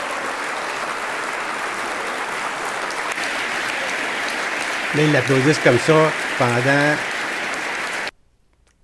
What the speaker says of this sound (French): Là, ils l'applaudissent comme ça.